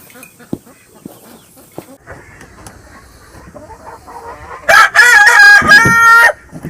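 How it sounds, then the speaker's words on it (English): Scattered clucks and soft fowl noises, then a loud rooster crow rings out close by for about two seconds. "He's the head rooster."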